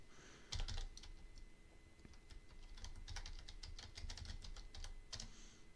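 Someone types a command into a computer keyboard while setting up Kali Linux, a quiet, close run of quick irregular key clicks throughout.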